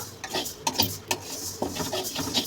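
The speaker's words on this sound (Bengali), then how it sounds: "এই জন্য নেড়ে নেড়ে ভেজে নেব চালগুলোকে পুরোপুরি লাল লাল করে।" Parboiled rice being stirred as it fries in a wok, with repeated scraping and rustling strokes of a spatula across the pan in an uneven, close rhythm.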